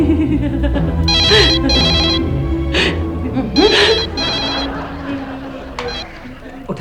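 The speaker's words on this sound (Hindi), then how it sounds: "अरे बेल जा रही है, तू उठा नहीं रहा है?" A telephone rings with repeated electronic bell bursts during an Indian comedy scene, loud and close, while a voice talks over it.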